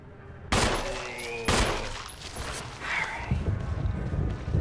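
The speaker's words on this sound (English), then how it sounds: "That many shots? To kill this thing?" A few loud gunshots ring out in the video game Resident Evil HD, two sharp blasts close together early on, then rumbling noise and scuffling game sounds.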